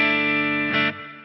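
Clean electric guitar tone from a Quad Cortex amp-modeling preset, bright and trebly, a sustained chord ringing close and loud, then damped and fading in the last moments.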